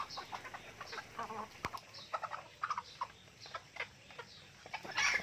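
Native chickens cluck in short irregular bursts close by as they are caught in a backyard farm, with rustling and scuffling movement throughout and a sharp knock partway through.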